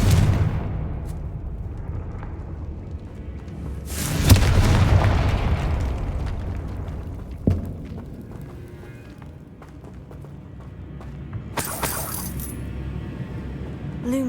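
Spell blasts explode in Hogwarts Legacy: a loud booming burst with a long crackling tail, a sharper pop a few seconds later and a bright burst near the end, over quiet game ambience.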